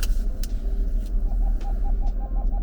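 A car engine rumbles low and close while driving, with uneven pulsing throb and a few sharp clicks and ticks over it. No voices are heard.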